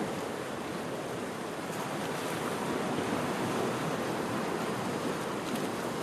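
Strong sea waves break continuously on the shore, a dense, steady wash of surf with wind noise on the microphone and no voices.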